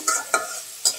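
Small chicken pieces frying in hot fat in a pan, with three distinct scraping stirs over a constant close sizzle, no talk.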